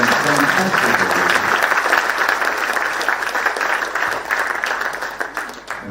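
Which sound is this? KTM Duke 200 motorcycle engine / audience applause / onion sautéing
audience applause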